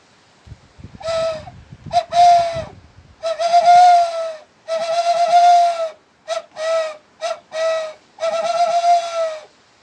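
A whistle made from a snail shell, blown across the finger joints, gives repeated high, breathy tonal blasts in a series of short and longer bursts, with some rustling handling noise at the start.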